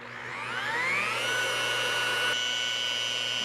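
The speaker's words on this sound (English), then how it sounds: "I'm going to go ahead and crank my grinder speed up to a 6, work the center one last time" A GlassRenu glass pre-polishing grinder spins up, its whine rising in pitch over about a second, then holding a loud, steady tonal drone up close with no voices.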